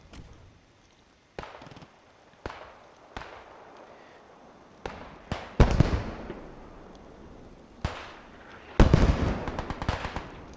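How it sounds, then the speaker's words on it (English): Mortars fire in the Post Scriptum war game during a push on a trench, a series of sharp distant thumps and cracks spaced irregularly, growing louder and denser toward the end. "I hear mortars being fired."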